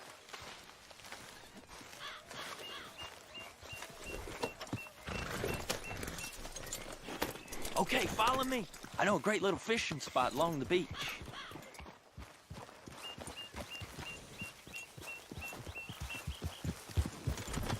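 Horse hooves clip-clopping on a ride toward a beach in Red Dead Redemption 2, a steady rhythmic trot running throughout beneath male dialogue, with the hoofbeats growing louder and clearer near the end.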